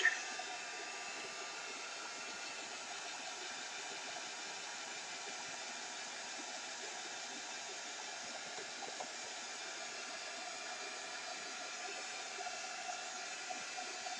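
A handheld dryer blows steadily over chalk paste on a wooden welcome sign, a constant whirring hiss of moderate volume with no talking and no breaks.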